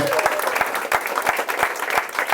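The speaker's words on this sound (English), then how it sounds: "give the staff at Governor's a round of applause for handling the emergency" A comedy club audience applauds the staff after a medical emergency at a show, a dense, continuous wash of clapping with crowd noise and a few heavier claps standing out.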